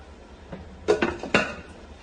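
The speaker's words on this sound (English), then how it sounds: "Put a lid on." A metal lid is set onto a cooking pot of simmering chicken, making a few short clanks and a light rattle up close in a quiet kitchen.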